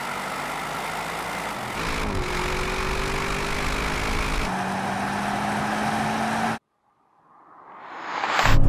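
A Mercedes-AMG GT 4-door, BMW M8 and Audi RS7 drag race side by side, a sustained loud roar of engines and rising tones as they accelerate, then a sudden cut and the sound swelling back in.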